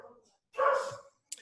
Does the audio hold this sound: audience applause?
no